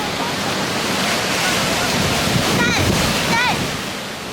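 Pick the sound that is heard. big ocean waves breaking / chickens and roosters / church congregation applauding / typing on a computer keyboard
big ocean waves breaking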